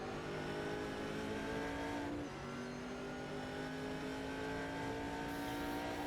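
A racing car's engine in a sim racing game at the Shanghai circuit holds a sustained loud, buzzing high-rev drone, dipping briefly as it shifts midway before climbing again, steady and continuous with no voices.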